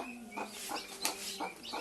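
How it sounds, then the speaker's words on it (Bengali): A mother hen with her chicks, thirteen of them, clucks in a run of about five short, soft calls at an even rhythm, close but quiet, with no talking. "মুরগির ক্ষুধা লাগছে, বাচ্চারও ক্ষুধা লাগছে"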